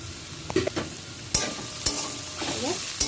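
Soaked chickpeas tipped into a hot pan of chili, cumin and turmeric powders, giving a low sizzle punctuated by a few sharp knocks and scrapes of a spoon against the metal.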